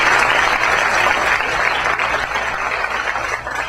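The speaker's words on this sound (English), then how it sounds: "So round of applause for Kira." Brief burst of audience applause at a school board of education meeting, fairly loud and close, a dense patter of clapping that fades slightly toward the end.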